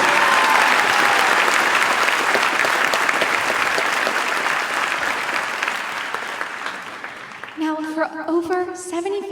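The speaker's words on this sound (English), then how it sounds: "Let's give her a huge round of applause." Loud, dense applause from a crowd at a disability charity celebration event for a woman named Caitlin, holding strong for several seconds and then thinning as a voice begins speaking near the end.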